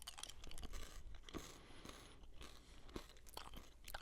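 Cinnamon gum being chewed up close, with soft wet crunching and smacking repeating unevenly, quiet and intimate against a low rumbling background.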